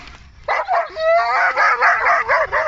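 A dog lets out a run of high, yipping barks and whimpery yelps, several quick calls in a row, close and fairly loud.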